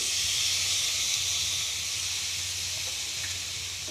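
Water poured onto spice paste in a hot pan, a steady loud hissing sizzle with steam, continuous and even for the whole stretch.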